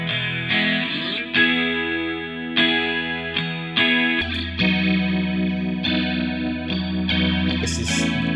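An electric guitar played through a plugin emulation of a Boss chorus pedal sounds a steady run of picked notes and chords with a shimmering, wavering chorus effect, loud and close throughout.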